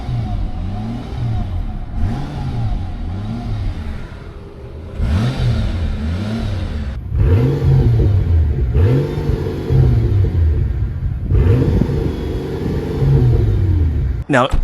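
An older one-owner, low-mileage Mercedes V12 runs close by, revving in repeated swells that rise and fall over a steady idle, with a voice heard over parts of it.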